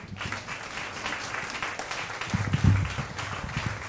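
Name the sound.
audience applause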